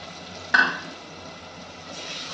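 A spice paste of soaked chili, coriander and turmeric powders is stir-fried in a pan for a pangas fish curry, giving a faint, steady sizzle with one brief scrape of stirring.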